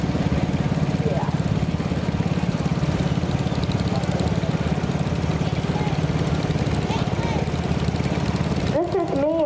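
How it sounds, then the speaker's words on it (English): A 1979 McFarland Model 400 tractor in original condition runs steadily and close by in a parade at an antique power tractor show. Its engine drones without a break, with a brief burst of other noise near the end. "This is Mia on another McFarland tractor. This is a 1979 Model 400 in original condition."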